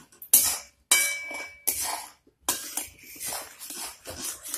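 A spoon clinks and scrapes against a bowl as coffee powder is stirred into a chocolate mixture, with a string of sharp close taps and scraping strokes separated by short pauses.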